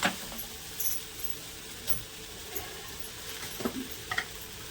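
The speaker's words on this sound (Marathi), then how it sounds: "हे सर्व हलवून थोडंसं गरम करून घ्यायचं आहे आपल्याला" Matar kachori filling with a pinch of asafoetida is stirred and warmed in a pan, giving a faint sizzle with light, scattered scraping clicks, close and quiet.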